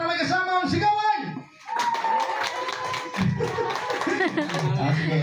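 Loud clapping and shouting from a crowd of guests at a Stitch-themed seventh birthday party, breaking out after a brief lull and continuing as a dense, sustained roar mixed with voices.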